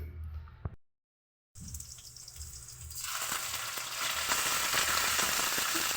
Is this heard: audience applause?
no